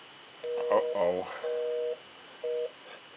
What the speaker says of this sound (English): please pick up the phone